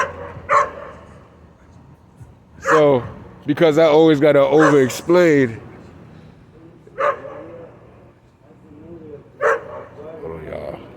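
A dog barks and yelps in short bursts at several moments, loud and close, interleaved with someone talking.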